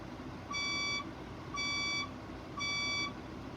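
Building fire alarm sounding in three evenly spaced electronic tone pulses, each about half a second long, clear and fairly loud over a constant background rumble.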